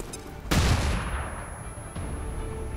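A flashbang grenade goes off in the tactical game Long War 2, a sudden loud blast at about half a second that rings and fades, followed by a smaller thump near the end.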